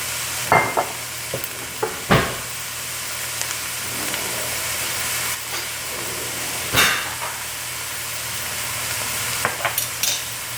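Food sautéing in melted butter for keto bread stuffing, a soft steady sizzle broken by a few sharp clatters of a utensil against the pan.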